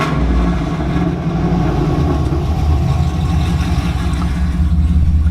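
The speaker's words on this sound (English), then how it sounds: "Give it a couple revs" A 2008 Chevrolet Silverado with headers and straight pipes, heard from inside the cab, gives a deep, loud, throbbing rumble that swells slightly as it revs.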